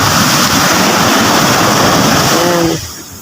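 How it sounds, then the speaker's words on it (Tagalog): Big ocean waves breaking near a fishing shore, a loud, continuous roar of surf and churning water that fades abruptly toward the end. "laki na naman po ng alon mga kasimang"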